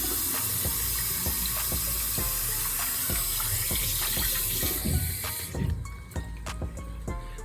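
Tap water runs steadily into a sink while hands wash under it, with irregular splashes and rubbing close by and the flow changing partway through.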